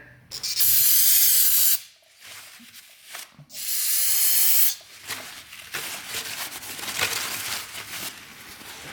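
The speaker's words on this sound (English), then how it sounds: "let's spray that out with some brake cleaner" An aerosol can of brake cleaner sprays in two long hissing bursts on a 600cc dirt bike, followed by a longer, softer spray with dripping and rubbing sounds, close by.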